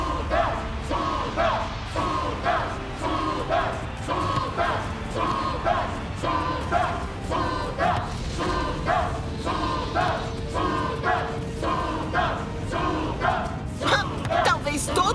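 A big stadium crowd in an animated football show chants and yells in steady rhythmic surges, loud and sustained throughout, with shouting voices mixed into the roar.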